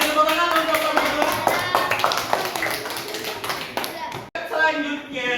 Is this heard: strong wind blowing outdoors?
no